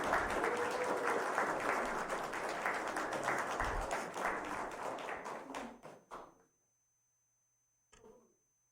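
At a city council award ceremony, a roomful of people claps warmly for about six seconds, the sound thinning into a few last claps before falling silent, with one brief faint noise near the end.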